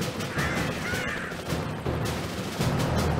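Crows cawing in a video game as the birds get hit, harsh calls over busy game noise with low thumps and bursts, steady and fairly loud throughout.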